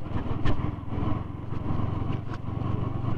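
A V3 motorcycle rides off-road on a dusty trail at Mirzapur's Aqua jungle park, its engine droning steadily at mid distance with a few louder revving bursts.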